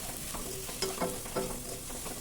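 Garam masala and coriander powder frying with other spices in a pan for mushroom pulao, a soft continuous sizzle broken by a few light scrapes of stirring, close by with no talking.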